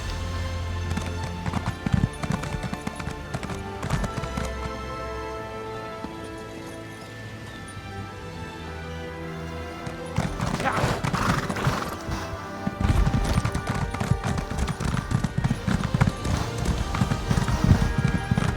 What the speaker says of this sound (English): I took Jason and Drift on a ride on this horse when I got it